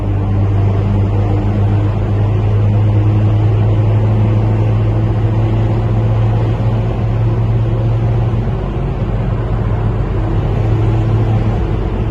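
An Opel Corsa 1.7 engine revs through its exhaust at a car meet, rumbling steadily and loudly throughout, a deep sustained drone with a gentle rise and fall in pitch, no voices.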